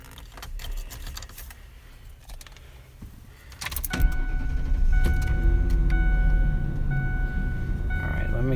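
Keys jangle close by as a key goes into a truck, followed by a steady electronic chime and a low vehicle rumble that fill the rest of the moment.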